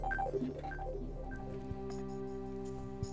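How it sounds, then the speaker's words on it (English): A telephone rings in Donkey Kong Country 3, a short series of electronic tones over quiet game music, with no talk. "Oh, man, a phone!"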